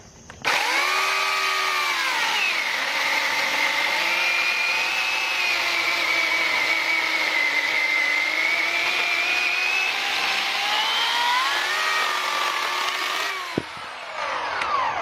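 A freshly sharpened chainsaw cuts through wood, its engine screaming at a steady high pitch for about thirteen seconds with slight dips in speed before cutting off near the end, loud and close with no talk.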